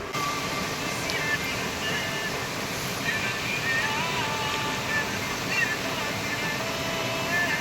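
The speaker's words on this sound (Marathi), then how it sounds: "डोंगरांच्यामधून पूर्ण असा हा झरा वाहतोय" A stream swollen by overnight rain rushes between hills, a steady broad wash of flowing water heard from a short distance, with faint bird calls above it.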